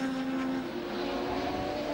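Racing motorcycles scream around the Cadwell circuit, a sustained high engine drone with shifting pitch from bikes passing close by, loud and continuous over two seconds.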